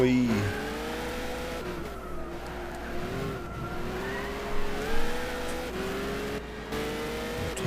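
Peugeot 908 race car in Gran Turismo 6 holds a steady, loud engine drone with rising and falling pitch through gear changes and brief tire squeal, with no pauses.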